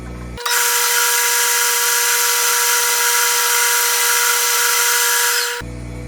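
A power drill bores and countersinks holes in wood, giving one continuous high whine. It starts sharply, holds for about five seconds close up and loud, then cuts off. No voices.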